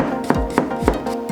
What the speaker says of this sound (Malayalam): അടുത്തായിട്ട് അരിയാനുള്ള സവാളയാണ്